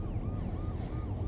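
A police car siren wails faintly in a steady, wavering rise and fall beneath a low rumble, as if heard from inside the police car.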